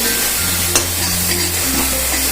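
White sesame seeds tossed into ground onion sizzling in a hot pan: a steady, loud frying hiss with a brief clatter near the start, continuous throughout with no voices.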